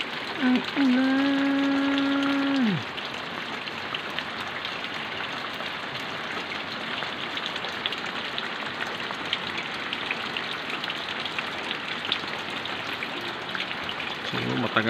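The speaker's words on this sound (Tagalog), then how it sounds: "Pag ganitong klaseng ulan matagal to tagal tumigil." Steady rain pours down on a rainy Sunday morning, a dense, even hiss of falling drops that continues throughout, with a droning mechanical hum over the first few seconds before it cuts out.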